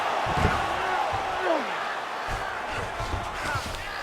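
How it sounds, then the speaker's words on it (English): A crowd roars in a UFC 5 mixed martial arts video game as fighters rise to their feet, a steady arena swell of cheering that holds throughout. "huge pop from the crowd as the fighters get back up to their feet"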